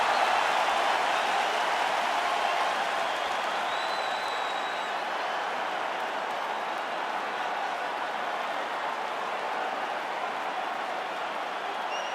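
Arena crowd in the UFC 5 fighting video game, a steady, even wash of cheering and applause-like crowd noise sustained throughout at moderate loudness.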